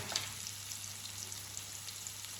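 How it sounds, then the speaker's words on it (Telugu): Bitter gourd pieces frying in oil with salt and turmeric make a soft, continuous sizzle with scattered light pops, quiet and steady throughout, with no talking. "ముక్కలు బ్రౌన్ కలర్లోకి షేడ్ అయ్యేంత వరకు ఆయిల్లో మంచిగా ఫ్రై చేసుకోవాలి"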